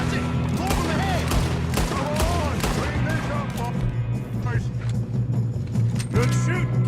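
A rapid fusillade of overlapping gunshots from a Red Dead Redemption II firefight, loud and close, mixed with shouting voices and game background noise.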